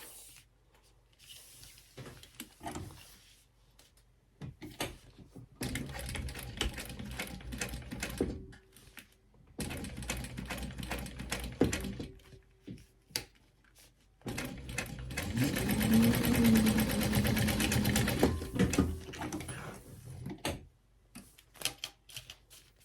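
A sewing machine top-stitches a travel companion lanyard in several bursts of steady, rapid mechanical whirring, quiet pauses between runs and the longest, loudest run near the end.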